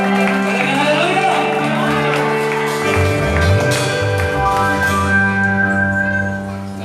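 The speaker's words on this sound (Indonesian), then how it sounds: "Sekali lagi Bapak Ibu tepuk tangan yang paling meriah buat Yesus." A church congregation at a Sunday worship service claps and cheers together, steady broadband crowd noise with shouts and whistles rising over sustained music tones, loud and continuous for several seconds.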